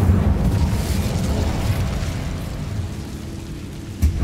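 Fire spell cast in Hogwarts Legacy, a loud sustained whooshing roar of flame with a rumbling low end, steady for several seconds before a small burst near the end.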